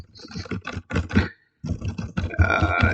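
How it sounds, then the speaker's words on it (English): Rapid clicky typing on an MSI GT77 Titan laptop keyboard in bursts, fairly loud and close, with a short pause midway before the tapping resumes. "This is what it sounds like when I'm typing on the keyboard."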